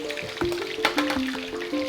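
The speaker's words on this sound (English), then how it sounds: "So cook the fish till it's nice and crispy." A whole fish deep-frying until crispy in hot oil, heard as a continuous bubbling sizzle with small pops, close and moderately loud, with occasional faint tones in the background and no speech.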